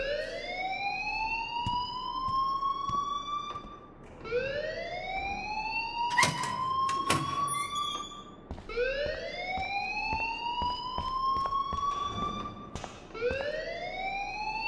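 A school alarm in the video game Life is Strange wails in rising sweeps that repeat about every four seconds, loud and continuous, with clattering and scattered clicks beneath it.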